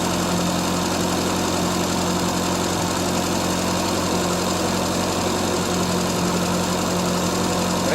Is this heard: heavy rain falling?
no